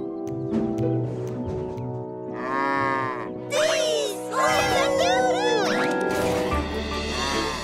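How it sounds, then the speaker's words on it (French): Cows mooing in a French-language Thomas and Friends cartoon, several drawn-out lowing calls overlapping one another amid music and other farm-animal sounds, fairly close and loud. "Les vaches, vous pouvez descendre."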